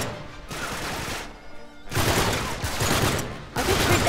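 Gunfire in the video game Uncharted 3: bursts of rapid shots in separate loud clusters broken by short pauses, close and sharp, without speech.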